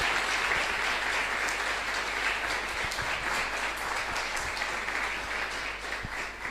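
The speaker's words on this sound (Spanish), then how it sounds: "Les damos un aplauso de bienvenida." A church congregation applauds to welcome visitors, a dense, continuous wash of many hands clapping at a steady level, with no voices over it.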